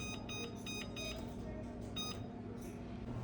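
A kitchen timer set while hamburger buns bake gives a few rapid pairs of high electronic beeps, then one more beep, faint over a steady low hum of the kitchen.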